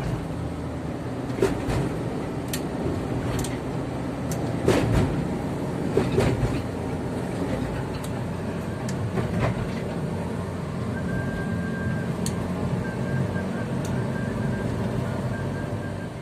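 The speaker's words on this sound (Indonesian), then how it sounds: "Kereta api bandara, teman-teman." An airport train rumbles steadily past on the rails, with a low continuous roar and occasional sharp clanks and clicks. No voices are heard.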